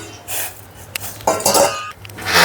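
An iron cooking pan set down on a home kitchen stove, with several close metallic clanks and scrapes amid a low steady hum, fairly loud and without talk.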